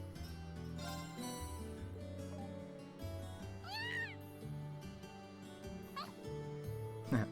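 A cat named Celine in a video game gives a rising-falling meow, then two shorter mews, over gentle background music with no talk.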